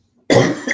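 A single sharp cough bursts out after a moment of silence, close and loud, with a short rough tail.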